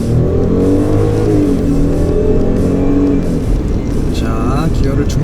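A car with premium comfort tires accelerates hard to 100 km/h for a braking test, with a loud, steady engine drone whose pitch climbs through the gears at close range.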